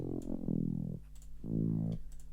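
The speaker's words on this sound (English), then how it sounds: "Retro synth." Retro synth patch plays two sustained chord-like notes with a gliding pitch sweep, each held about half a second, with faint clicks between them, alone at moderate level in an electronic music production.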